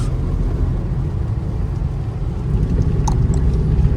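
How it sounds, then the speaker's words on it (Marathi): Rain falling during a drive on the road from Mumbai toward Lonavala: a steady rumbling wash of rain and road noise inside the vehicle, with a few brief sharper patters near the end and no talking. "पाऊस आला"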